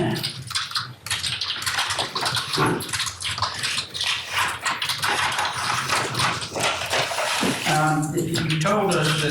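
A dog barks repeatedly during a police home-invasion response, with sharp, loud barks in irregular bursts over a noisy, rustling scene.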